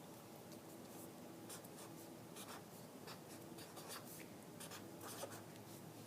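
A pen scratching out a math inequality by hand on paper, a quiet run of short strokes and taps close by, with no talking.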